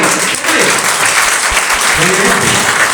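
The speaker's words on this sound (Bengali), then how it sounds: "সবাই সবাই করতালি হবে সাথে জন্য" Sustained applause from an audience at a tour event in a Cox's Bazar hotel, dense steady clapping filling the room from start to finish, with a few louder claps near the front.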